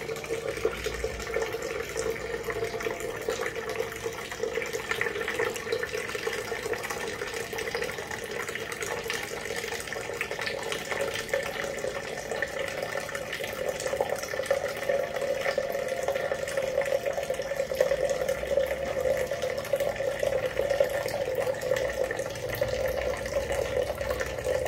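Water runs steadily from a Kangaroo KG100eed hydrogen alkaline water purifier set to high flow, a continuous close stream pouring out for the whole stretch and growing slightly louder toward the end.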